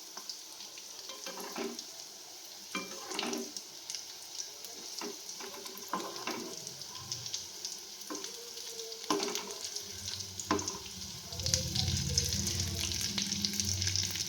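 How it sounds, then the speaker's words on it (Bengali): Breaded rohu fish chops fry in hot oil with a soft, steady sizzle broken by scattered clicks and utensil knocks. The frying grows louder and fuller toward the end, with no speech. "এইগুলোকে উল্টে পাল্টে ভেজে নেব।"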